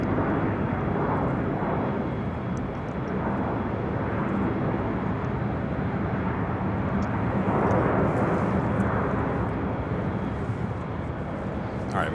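Boeing 777 jet rolling down runway 25 right for takeoff at Los Angeles International Airport, a steady loud broadband engine roar that swells slightly, continuous with no talk.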